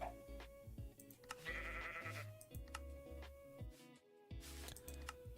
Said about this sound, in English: Oh, hi, Mr. Goat.